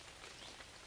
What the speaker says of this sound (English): it's that lovely summer rain with no wind